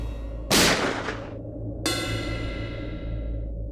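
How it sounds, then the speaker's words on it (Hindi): A single loud gunshot cracks out, followed a moment later by a sharp ringing metallic impact that slowly fades, with no talking. "गोली चला दी इसने।"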